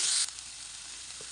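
Chopped onion frying in hot oil with mustard seeds for an egg curry, a steady close sizzle that flares loudly for the first quarter second, then settles into a softer, even hiss.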